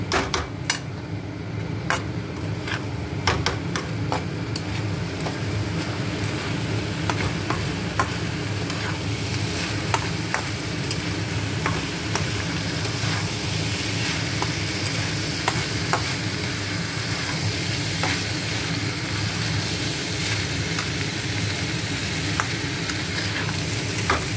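Gobindobhog rice is stirred with spices in a hot pan, the spoon scraping steadily against the metal over a constant sizzle and fry. Occasional sharper clicks from the spoon hitting the pan's edge punctuate the continuous sound, and no one speaks.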